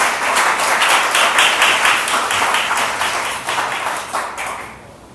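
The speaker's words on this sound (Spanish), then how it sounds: "¿Por qué no aplaudo al Señor Jesucristo, hermano?" A church congregation applauding during a sermon, a lively burst of many people clapping in quick, even rhythm that holds steady, then fades out over the final second.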